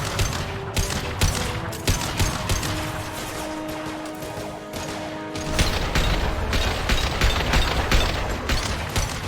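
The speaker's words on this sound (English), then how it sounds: "Firing concussive shot." A concussive shot fired in Mass Effect 2 on PC amid a dense, loud firefight, with sharp blasts and rapid gunfire rattling continuously and a heavy surge partway through.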